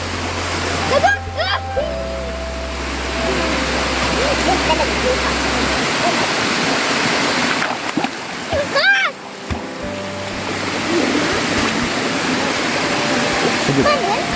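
Busay waterfall sends up a loud, continuous rushing roar of falling water with splashing close by. Voices talk and call out over it at times.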